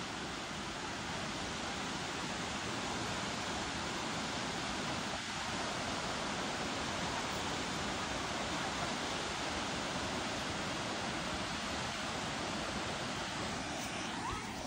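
The Bhivegoan hidden waterfall near Bhimashankar pours down in a constant, dense roar. The sound is broadband and steady, like heavy rushing water heard from close by, and it goes on unbroken for the whole span.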